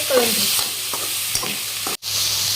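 Onion and tomato stirred in a hot pan over high flame for restaurant-style matar paneer, with a steady close sizzle and the scrape of a spoon through the mixture, briefly cut off near the end.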